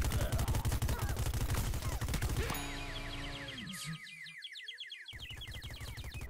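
A fully automatic Peashooter in Plants vs Zombies Garden Warfare fires a dense, rapid stream of shots for a couple of seconds, then gives way to twangy game effects and music-like tones.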